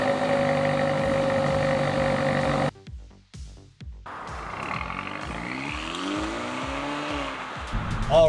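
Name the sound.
Hyundai Elantra GT N-Line engine starting and driving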